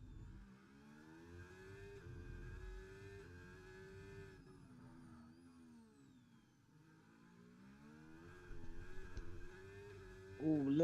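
A Ferrari Formula 1 car engine howls through a lap of the Singapore Grand Prix circuit in an F1 racing game, its pitch rising and falling through gear changes, fairly quiet and steady, with a louder surge at the end.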